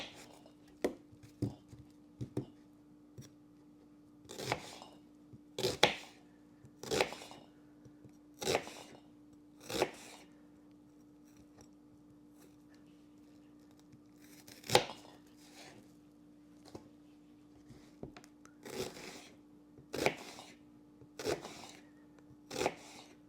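Onions being sliced on a cutting board for French onion soup, a series of sharp, separate knife strokes in an irregular rhythm with pauses, fairly faint against a low steady hum.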